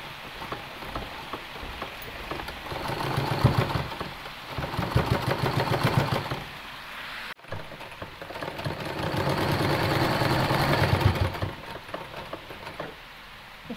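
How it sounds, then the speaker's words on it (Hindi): Sewing machine stitching fabric for a toddler's sharara dress: steady close mechanical whirring runs in two long bursts with a brief pause and a quieter stretch between them, no talk. "इस तरीके से इसे अंदर की ओर घुमा के हमें ऊपर को सिलाई लगाएंगे।"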